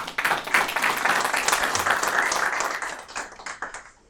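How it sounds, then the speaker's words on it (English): Audience applause welcoming a scholar at a lecture, a short burst of close, crisp clapping from a modest crowd that holds for a few seconds and then tapers off. "Please give him a round of applause."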